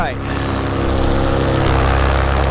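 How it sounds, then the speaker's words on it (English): Paramotor engine drones steadily in flight about 2,500 feet above ground, a loud continuous buzzing hum with propeller whine running throughout without pause. "Let the engine run and cool a bit."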